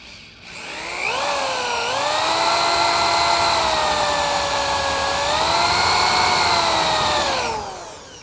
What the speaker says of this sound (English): And then you just take your drill